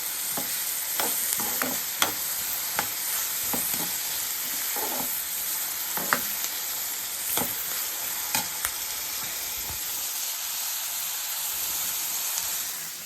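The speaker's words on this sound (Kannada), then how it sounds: "ಆ ಸಣ್ಣಕ್ಕೆ ಕಟ್ ಮಾಡ್ಕೊಂಡಿರೋ ಈರುಳ್ಳಿನ ಹಾಕ್ಕೊಂಡು ಫ್ರೈ ಮಾಡ್ಕೊತಾ ಇದ್ದೀನಿ" Finely chopped onions fry in oil in a pan with a steady close sizzle and hiss, while a utensil stirring and scraping adds irregular clinks and taps throughout.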